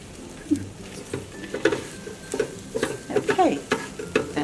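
Scrambled eggs cook in a mini frying pan with a soft sizzle as a utensil stirs and scrapes, producing irregular taps and scrapes that grow busier toward the end.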